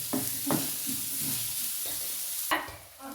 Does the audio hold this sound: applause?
no